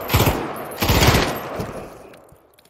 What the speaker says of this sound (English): this gun is loud